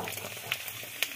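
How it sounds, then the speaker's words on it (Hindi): Red chillies frying in hot oil, a faint steady sizzle with a couple of light scraping ticks from stirring. "अभी लाल मिर्ची डालती हूँ, इन्हें भूनना है"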